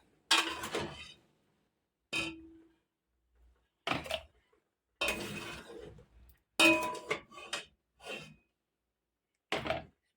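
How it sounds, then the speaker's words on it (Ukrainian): Mushrooms are poured into a sterilized glass jar in a series of short, clattering bursts with faint glassy clinks, separated by quiet pauses. "Банка простерилізована з кришкою і наливаю в банку грибочки."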